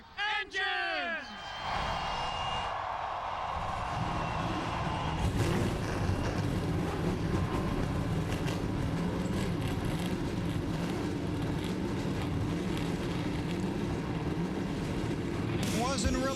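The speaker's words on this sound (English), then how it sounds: "the engines have fired on pit road" NASCAR Nextel Cup stock car engines fire up together on pit road at Pocono in 2007, a dense, loud roar that builds after a brief crowd cheer and holds steady, with speech underneath.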